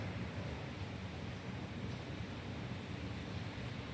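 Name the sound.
strong wind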